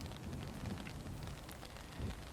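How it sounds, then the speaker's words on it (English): Steady rain falls around Hogwarts in a video game, a constant, even hiss of rainfall with a few heavier low rumbles, alone with no voices. "Hogwarts is very nice in the rain."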